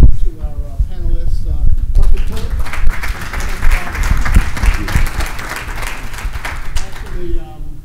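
Audience applause for panelists at a hosted chat event, a dense crowd clapping sustained for several seconds, with a speaking voice at the start and again as it fades.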